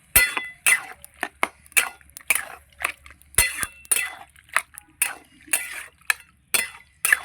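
Goat meat is stirred in a cooking pot with a utensil, making a quick, irregular series of close metallic clinks and scrapes against the pot.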